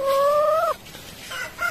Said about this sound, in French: Avec la petite nouvelle, une petite poule pondeuse.